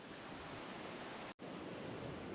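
Ocean waves on the Australian coast make a faint, even wash of surf, broken by one brief dropout to silence midway.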